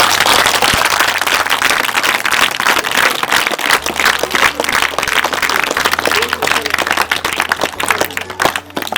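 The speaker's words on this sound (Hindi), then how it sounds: "जरा ताली बजा के दिखाओ कितना तुम करोगे।" Schoolchildren clap together loudly and continuously, a dense sustained burst of applause from a group close by, with some voices mixed in.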